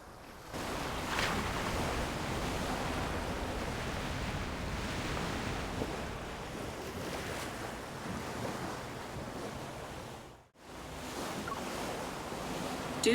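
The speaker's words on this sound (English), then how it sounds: "The sound of the waves seems to be getting louder." Ocean waves in the video game Love and Deepspace, a steady broadband wash of surf with wind, continuous and fairly loud, briefly cutting out near the end before resuming.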